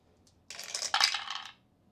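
Three dice clatter and roll across a table for an attack in the board game Kingdom Death: Monster, a short, close rattle of two quick bursts that settles within about a second.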